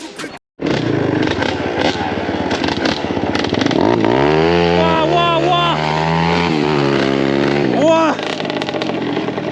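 A 50cc motorcycle ridden off-road on dirt, its small engine revving up and down in loud rising and falling pitch sweeps after a brief gap at the start, close and continuous throughout.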